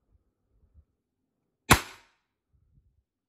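A single sharp shot from an HDP 50 revolver fired through a chronograph, one loud crack with a short decay, followed by quiet handling noise.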